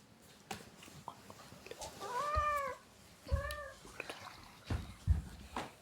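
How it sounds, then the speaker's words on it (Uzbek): A cat meows two clear, drawn-out times at close range, with a shorter cry near the end, amid faint rustles and small thumps in a quiet room. "Mushugimizga miyovlayatibdi."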